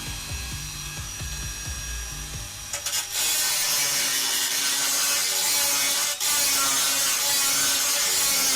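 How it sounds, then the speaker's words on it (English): Dremel rotary tool cutting into a PC case, starting with low clatter, then a loud, sustained high-pitched whine and grind that runs steadily to the end with one brief dip, heard alone. "I'm going to have to use my Dremel."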